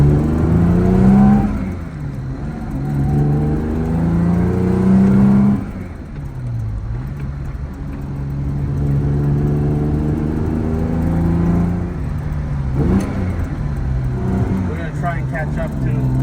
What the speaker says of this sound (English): I think 6-cylinder Jags have some of the best exhaust notes for English.